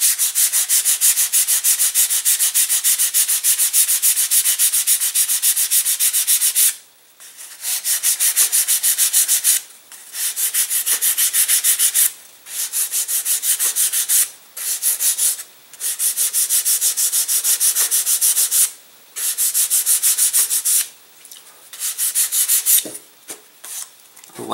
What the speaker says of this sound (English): All I'm wanting to do is to deburr this so that it's aerodynamically good.